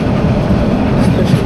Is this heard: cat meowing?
no